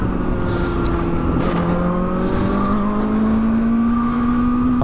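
A 2023 Kawasaki ZX-4RR KRT motorcycle with an ECU flash hums steadily in LA traffic, its engine tone rising slowly and continuously, close and loud from start to finish with a constant road and wind roar underneath.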